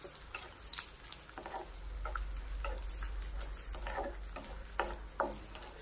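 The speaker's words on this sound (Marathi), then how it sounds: "तूप गरम झाल्यानंतर यामध्ये हा डिंक तळायला घ्यायचा, 100 ग्रॅम घेतलेला आपलं" Edible gum (dink) fries in hot ghee, giving a steady soft sizzle with scattered crackles and ticking pops as it puffs up, close and continuous with no talking.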